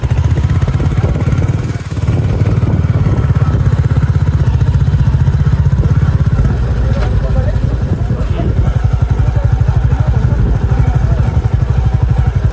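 A Royal Enfield Bullet motorcycle rides along a rough hill road, its deep thumping single-cylinder engine loud and close, steady throughout with chugging low pulses under some road clatter.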